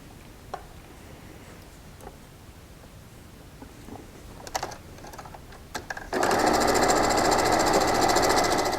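A sewing machine runs steadily while stitching quilt pieces together for a variegated cloth cityscape quilt, starting after a stretch of faint clicks and handling noises and then holding a loud, continuous whirring drone to the end.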